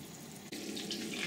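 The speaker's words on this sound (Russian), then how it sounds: "После этого мы наливаем немного воды и закрываем крышку, чтобы котлеты готовились под паром." Water poured into a hot frying pan of homemade beef patties, a steady close rushing splash that brightens into sizzle partway through, with no talking.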